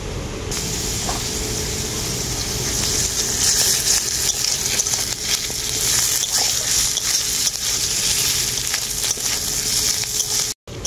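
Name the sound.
ginger garlic paste frying with potatoes and onions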